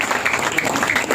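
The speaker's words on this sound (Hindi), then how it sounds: "बहुत ज्यादा जोरदार तालियों से स्वागत कीजिए जिला अध्यक्ष जी का।" A crowd at a BJP political gathering in Bhiwandi applauding to welcome a district president, a brief, steady wash of clapping.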